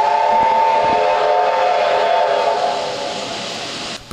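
A retro steam train in Sochi sounds a long, loud, continuous whistle, a steady harmonic blast held for about four seconds before cutting off, close and alone.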